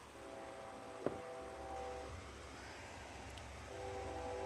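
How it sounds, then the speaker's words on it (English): A train on a live stream passes at a distance, its faint horn sounding in a long held blast, then returning near the end over a low, quiet background rumble. "You hear that train?"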